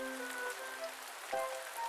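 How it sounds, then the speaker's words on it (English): Pattering rain in the farming research video game Research Story (demo), a soft steady hiss of drops with a faint tonal hum underneath, brief and quiet. "Sounds like it's raining outside"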